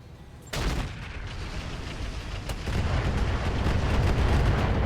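Mech weapons fire in the RogueTech video game with a sudden booming salvo that swells into a dense, continuous roar of rumbling blasts building louder toward the end.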